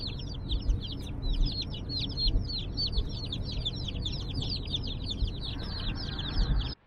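Many baby chicks chirp in rapid, high-pitched peeps, a dense, steady chorus close by over a low background hum, stopping abruptly at the end.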